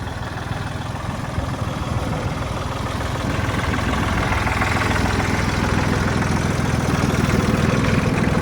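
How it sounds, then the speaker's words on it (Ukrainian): A Mitsubishi MTR-300 mini tractor engine chugs steadily nearby while driving with the PTO shaft running, a low rhythmic mechanical drone that grows a little louder and denser midway, with faint vibration underneath. "Тракторець їде та вал відбору працює."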